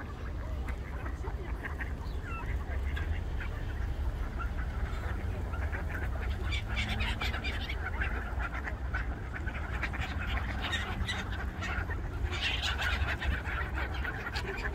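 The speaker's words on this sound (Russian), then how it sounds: "чайка готова утку утопить за кусок хлеба" Busy flock of gulls and ducks squawking and quacking nonstop over bread in a park, overlapping harsh calls close by, with a low rumble of wind or water underneath.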